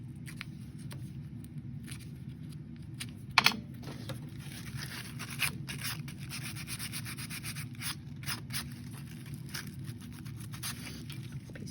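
Steady close rubbing of worn sandpaper sanding by hand, a continuous scratchy rasp with a couple of brief knocks, made while crafting a grimoire book.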